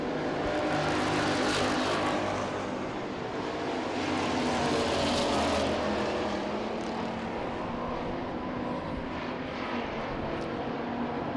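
Street stock race cars circling a track during heat races, a sustained loud engine roar that swells and fades as the cars pass, with no speech.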